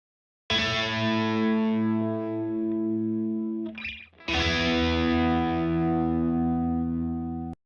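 Electric guitar chords with printed effects tones, chorus and distortion ring out in two long sustained strums, a brief gap of a scratchy pick noise between them, loud and alone.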